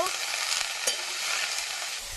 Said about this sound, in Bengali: চিচিঙ্গা দিয়ে দিলাম, এবার ভাজা করে নেব।